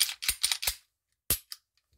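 A Taurus G2C pistol slide being fitted back onto the frame: a quick run of four sharp metallic clicks and snaps, then two more distinct clacks after a short pause, close and crisp with no talking.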